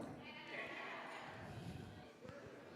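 Guests at a Passover community seder imitate goats, voices bleating together in a loose, overlapping crowd chorus that swells and fades over a few seconds with a noisy room around them.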